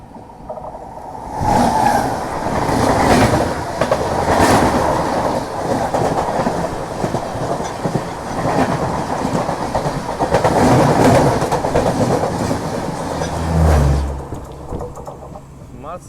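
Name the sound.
passing train crossing on the Kerala coastal line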